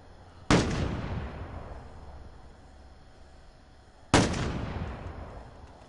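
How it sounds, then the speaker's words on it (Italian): Two loud, sharp gunshot reports in a video game, spaced a few seconds apart. Each blast decays in a long echoing tail. "Mi stanno sparando!"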